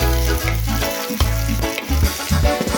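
Aromatics sizzle loudly in a hot frying pan before frog meat goes in, a close, continuous crackle with bursts of stirring.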